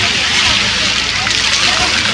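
Water from a fountain gushing strongly outdoors, a loud, steady rushing spray close by, with people talking faintly under it.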